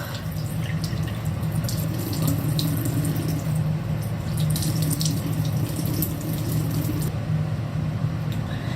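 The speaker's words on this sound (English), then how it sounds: "then you will rinse off completely with the warm water" Steady running warm tap water splashes continuously into a sink while a face is rinsed, with small irregular splatters on top, close and fairly loud throughout.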